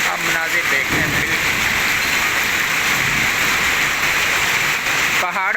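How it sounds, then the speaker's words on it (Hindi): Heavy storm rain pours steadily in Rawalpindi, a loud, even wash of falling water drumming on surfaces, constant and close, with a voice speaking faintly beneath it. "इतनी शदीद बारिश यहाँ पे पहले कभी भी नहीं मैंने देखी"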